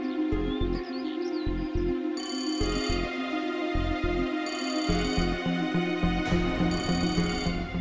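A telephone rings with a repeating electronic ringtone melody, pulsing in a steady rhythm over a quiet musical backdrop, with no talking.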